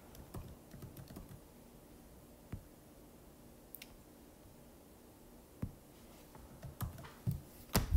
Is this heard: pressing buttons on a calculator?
yes